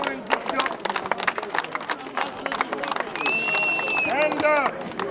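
Applause and clapping from a crowd at a gathering in honour of a man, with a dense patter of hand claps, some cheering, background chatter and a brief whistle-like tone, fairly loud throughout.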